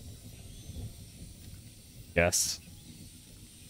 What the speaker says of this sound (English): Today is the first day I've actually used the med spray.